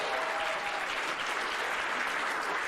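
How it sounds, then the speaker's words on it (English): A live audience at a wrestling convention expo gives a round of applause, dense steady clapping from a crowd throughout, fairly close and even in volume, with no talking over it. "you can give that a round of applause if you want to"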